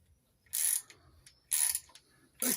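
A ratchet winding a bolt back into a Simca Aronde engine during a strip-down, three loud close bursts of rapid metallic clicking separated by short pauses.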